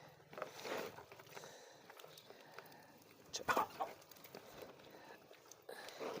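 Hens waiting for leftover fish waste cluck softly and intermittently at a moderate distance, with a brief louder burst of clucking midway, against quiet outdoor background.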